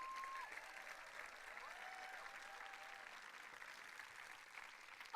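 Audience applause at a French Ecologists' summer conference political speech, a steady quiet wash of clapping from a crowd that holds evenly throughout, with a brief louder burst at the very end.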